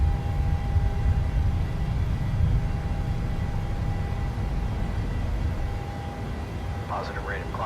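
A simulated airliner takes off and climbs in Flight Simulator, its engines giving a steady, loud, broad roar with a faint high tone throughout, the level easing slightly near the end.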